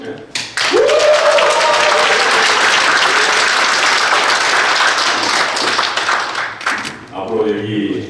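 Audience applause at a CEO MBA entrance ceremony, a loud burst of clapping that swells quickly, holds for several seconds and then fades as a speaker resumes talking.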